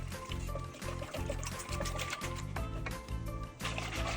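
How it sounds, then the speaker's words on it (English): Cold milk pours steadily into a saucepan of dry ingredients for banana cream pie filling while a whisk keeps stirring, a continuous close liquid gurgle and trickle with rhythmic scraping throughout. "Now going to add the cold milk and continue whisking."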